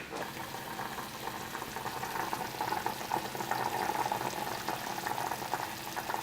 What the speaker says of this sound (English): We're gonna boil these potatoes here.